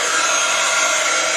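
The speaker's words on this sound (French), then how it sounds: "avec un pistolet chauffant, je vais pouvoir" A heat gun blows a steady, loud, unbroken hiss while melting embossing powder on a stamped design, close and continuous with no voices.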